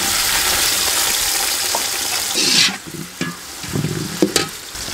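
Onions added to hot cooking oil on a village stove for mutton biryani: a loud, even frying hiss that dies down suddenly midway, followed by sharp stirring scrapes and softer bubbling sizzle, no speech.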